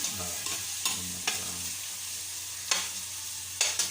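Ingredients for pinapaitan stir-fry in a hot pan with a steady close sizzle, punctuated by a handful of sharp spatula scrapes spaced irregularly over a few seconds; no voices.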